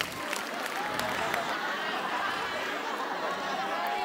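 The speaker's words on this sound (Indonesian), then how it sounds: "Tepuk tangan dulu dong." At a stand-up comedy show, an audience claps and murmurs in a lively crowd wash that runs throughout the moment, with some voices mixed in.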